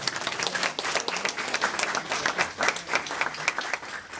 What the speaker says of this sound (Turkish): Bu arada Nazilli ve ortaklara bir alkış yok mu arkadaşlar?